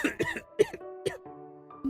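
A few sharp, close coughs in quick succession, followed by a brief throaty sound, with no speech.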